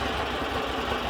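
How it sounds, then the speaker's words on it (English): Lumpy, uneven idle of an old Volkswagen 1700cc engine heard from inside the car, a steady low rumble with a loping beat that runs throughout at moderate level. "I just love the lumpy idle"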